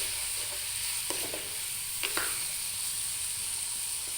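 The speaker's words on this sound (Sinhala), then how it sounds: "අර සීසන් වෙන්න තිබ්බ ඉස්ස ටික අපි ඔක්කොම ඒකට දාලා අපි ටිකක් වෙලා එක ෆ්‍රයි කරනවා." Seasoned prawns frying in a pan, a constant close hiss of hot oil with a few soft stirring scrapes and clicks, no talking.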